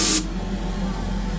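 An airbrush sprays a primer coat onto Greek-style vases, starting with a short sharp burst of air and paint that drops to a steady, softer hiss for the rest of the moment.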